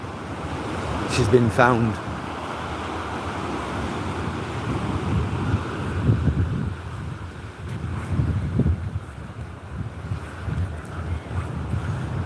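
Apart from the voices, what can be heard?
sea waves and wind on the seafront promenade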